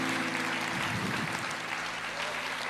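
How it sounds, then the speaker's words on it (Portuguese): A church congregation applauding during a worship service, sustained dense clapping from many people, loud and even throughout, with a faint hum beneath. "a igreja aplauda ao Senhor"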